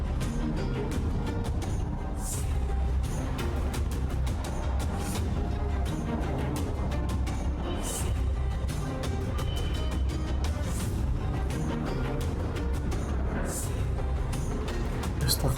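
Fragmentum monster noise from the game Honkai: Star Rail, a steady harsh hiss like white noise with scattered crackles and clicks, faint and continuous throughout.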